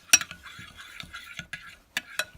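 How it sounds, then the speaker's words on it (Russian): Glue being stirred to make slime, with repeated soft scraping and tapping strokes of a utensil against a container, close and fairly quiet, in short uneven bursts. "пока я мешаю клей"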